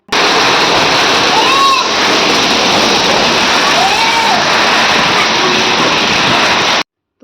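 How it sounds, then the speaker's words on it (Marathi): Heavy rain pouring during a downpour heavy enough to soak a house, a loud, dense, steady wash of noise that runs continuously for about seven seconds. "आता तुम्ही पावसाचा नेमका आवाज ऐका"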